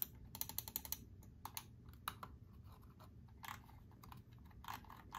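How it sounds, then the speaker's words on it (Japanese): Rapid, light plastic clicks from a cheap 100-yen store computer mouse, crisp close ticks in uneven bursts with short pauses, fairly quiet and with no voice over them. "やはり今回のマウスはホイールを回した時になんかカチッというような感じの音が鳴っています"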